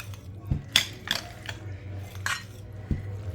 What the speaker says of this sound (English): I'm just going to mix it up with my salad